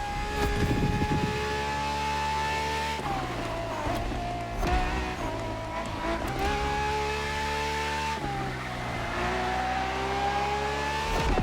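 A track-only Ferrari racing car in The Crew Motorfest screams at high revs, its engine note climbing and then dropping with each gear change, loud, close and unbroken throughout.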